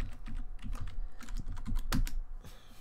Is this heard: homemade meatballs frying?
no